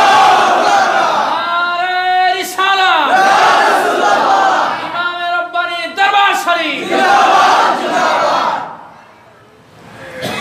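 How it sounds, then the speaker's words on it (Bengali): A large crowd at an Islamic religious gathering answers a takbir call by chanting Allahu Akbar in loud unison, with several swelling repeated shouts that fade to quiet at the end. "নারে তাকবীর।"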